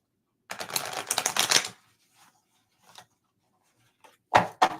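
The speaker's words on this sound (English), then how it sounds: "And I need to shuffle this a bit more." A deck of tarot-style reading cards is shuffled by hand: a close riffling burst of about a second, then quiet with faint handling clicks, and two more short shuffling bursts at the end.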